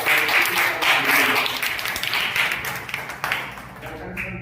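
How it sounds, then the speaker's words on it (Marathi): An audience claps together at a temple celebration of a saint's birth anniversary held in a Buddhist vihara, with steady dense applause lasting several seconds before it thins and fades, while a voice speaks over it. "त्यांच्यासाठी एकदा तुम्ही जोरदार टाळ्या"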